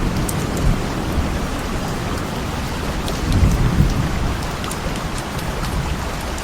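A thunderstorm pours steady heavy rain, with low rolling thunder swelling briefly midway, loud and continuous with no voices.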